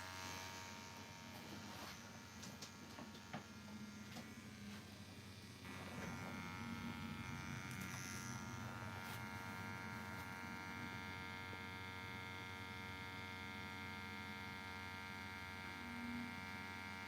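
A tattoo machine with a 3.2 stroke buzzes steadily with its needle fitted, a continuous close electric hum that holds an even drone throughout.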